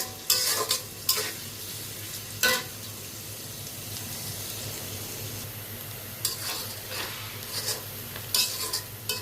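Dal (lentils) boils in a pot with a steady, soft bubbling hiss, broken by scattered clinks and scrapes of a utensil against the pot.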